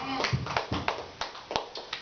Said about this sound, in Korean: 하나님 아버지께 박수로 영광을 돌리십시오.